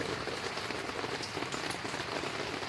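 Steady rain pattering on a surface outdoors on a bluff, a dense, even wash of drops that stays loud and constant throughout with no talking.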